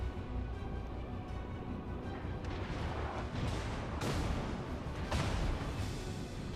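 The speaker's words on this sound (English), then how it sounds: "So the other Kongo's firing on me now. So I've only got my front turrets at the minute ready for this guy. The secondaries are starting to fire now." Naval gunfire in the video game World of Warships, with a Kongo-class battleship in battle: a dense, continuous rumble of booming shots and explosions, with sharper blasts standing out near the end.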